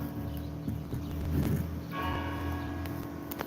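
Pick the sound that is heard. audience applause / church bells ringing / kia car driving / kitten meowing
church bells ringing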